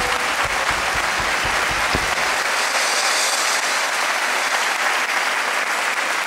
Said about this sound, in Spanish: Si queredes dedicarlle un aplauso, moi ben.